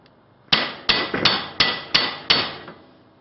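Six sharp metallic hammer strikes ring out close by in a steady, slightly uneven rhythm, each blow followed by a brief ringing decay, during reassembly of a Datsun differential.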